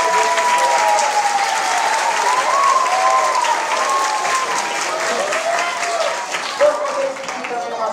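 A theatre audience at Teatro do Sesc Centro in Porto Alegre applauds the Sesc staff, loud continuous clapping under a speaking voice, fading slightly toward the end.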